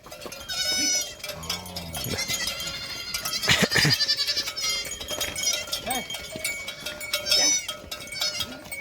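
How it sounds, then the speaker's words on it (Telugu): Several goats bleat near and farther off, scattered calls over a noisy outdoor background with people talking. "మేకలు కూడా వచ్చేసినాయి పిల్లలు వాటితో కలిసిపోతున్నాడు"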